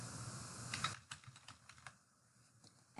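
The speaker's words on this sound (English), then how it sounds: "Just start typing where it says field one" Computer keyboard typing, rapid keystrokes clattering up close for about a second and then a few scattered separate taps, with no talking.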